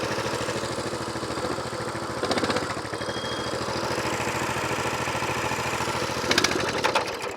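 Small engine idling on choke with a loud, steady, rhythmic chugging, rising in two brief surges of revs partway through.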